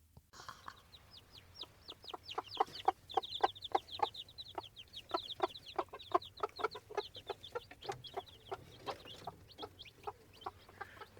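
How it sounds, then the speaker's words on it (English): Chickens cluck and chirp at a farm on a sunny summer day, a steady run of short repeated calls from several birds at close to middle distance, with no talk. "There ain't nobody here but us chickens and Chris Skinner and myself"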